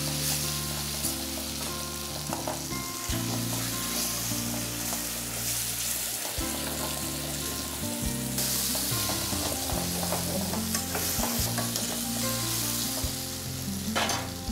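Mushrooms roast in masala in a pan for a peanut mushroom dish, sizzling loudly and continuously while being stirred, with no talk over the frying.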